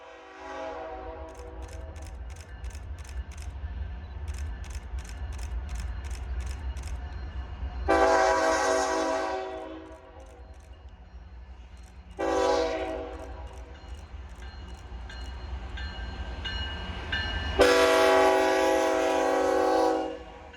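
Freight locomotives rumble past with a low, steady drone, sounding several long horn blasts and pulsing bell-like tones over the rolling noise.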